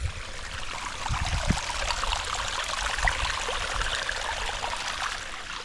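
Water streams steadily into a flooded rice paddy in the Konkan region during transplanting, a continuous close gushing trickle with low rumble and no voices.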